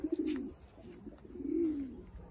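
Pigeons coo softly near a feeding spot, two low, rolling coos, the second longer and fuller, with a few faint chirps above and no talk.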